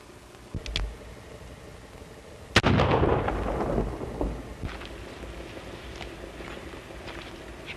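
Gunfire in a 1933 western film, one sharp, loud shot followed by a rumbling echo that trails off, with fainter knocks before and after.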